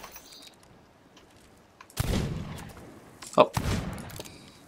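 Blunderbuss-style pistol shots in the pirate video game Sea of Thieves, two loud broadband blasts about a second and a half apart, with a brief voice exclamation between them.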